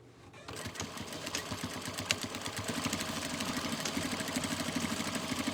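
Sewing machine running steadily while stitching the edge of a tote bag, a dense rapid mechanical whir that starts after a brief quiet moment and continues close and loud without talk.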